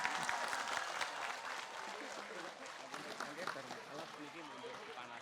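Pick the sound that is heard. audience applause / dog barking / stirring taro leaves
audience applause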